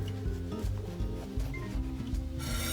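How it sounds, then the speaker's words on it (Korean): A knife saws slowly back and forth through a BLT sandwich, a close scraping rasp repeated in a steady rhythm, with no talk over it. "칼은 앞날을 들어서 톱질하듯이"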